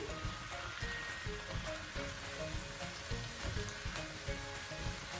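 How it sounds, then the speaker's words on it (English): Bok choy stirred with two tablespoons of stock in a hot pan, giving a steady close sizzle and bubbling with soft scraping stir strokes throughout. "I'm going to put 2 tablespoons of this stock in with my bok choy. I'm just going to stir that around."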